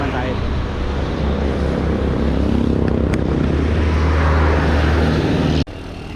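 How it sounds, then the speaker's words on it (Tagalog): Strong wind buffets the microphone during a motorcycle ride near the Pililla windmills, a loud, constant roar over low engine rumble, with a voice speaking over it. "Lakas ng hangin."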